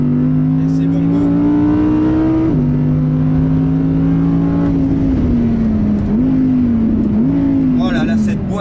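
An Audi performance car, an RS6, RSQ8 or rear-drive R8, accelerates hard around a race circuit, its loud, droning engine note climbing steadily and dropping sharply at gear changes.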